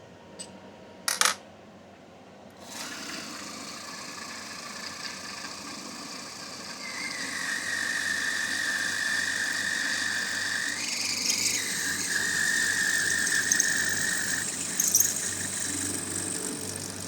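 Milling machine drilling a quarter-inch hole in an engine cylinder head, a steady motor hum rising into a thin, sustained squealing whine as the bit cuts, after a couple of sharp metallic clinks at the start.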